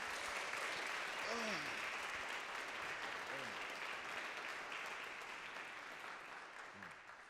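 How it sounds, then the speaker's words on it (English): An audience at a university spiritual-life lecture applauds a choir and performer in a continuous round of clapping, with a few brief cheers rising through it as it slowly fades. "can we get one more round of applause for Voices of Peace and Light and D1?"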